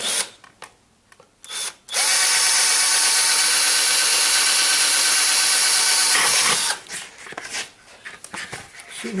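A cheap, poorly made electric drill with a dull, wandering bit bores into stone, running loud and steady for about five seconds between shorter bursts and scraping handling sounds, with no talk.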